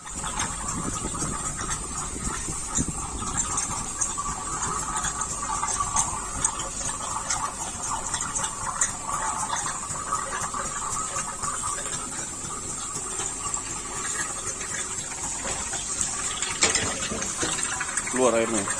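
Water gushes steadily from an oil skimmer's suction hose during a pump test of a Cybex Purifier Plus, a continuous mechanical pumping drone with splashing flow throughout, near and moderately loud.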